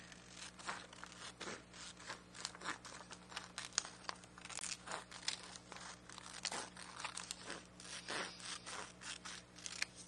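Scissors cut along a line through paper or card for an astronaut craft, making a close, quiet series of crisp snips and crinkles in an irregular rhythm, with no talking.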